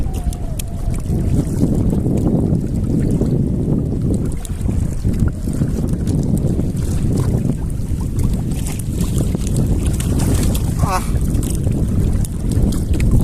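Strong wind at sea buffets the microphone in a continuous loud roar aboard a small boat while out crabbing, with water and hull noise mixed in.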